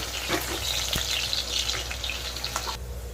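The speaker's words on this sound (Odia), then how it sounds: "ତେଲ ଯୋଉ ସୋରିଷ ଏବେ ପକେଇଦେବା ପିଆଜ ପିଆଜ ଭାଜିଦେବା" Onions frying in mustard oil in a home kitchen pan, giving a steady close hiss and crackle with brief bright pops and stirring scrapes, with no talking.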